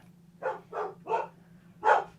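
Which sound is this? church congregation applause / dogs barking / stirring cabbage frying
dogs barking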